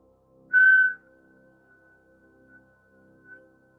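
A whistle is blown once in a short, loud, pure tone during a yoga class, after which a faint sustained tone lingers in a quiet room.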